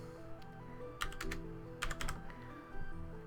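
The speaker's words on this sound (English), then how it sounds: "And the seed is nice and easy to type." A computer keyboard is typed in a few quick, faint bursts of key clicks to enter a world seed, with short pauses between the groups of keystrokes over a quiet, humming background.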